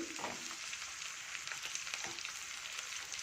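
Steady sizzle of food frying in a pan in a home kitchen, a continuous close hiss with small crackles and a few faint stirring knocks, no voices.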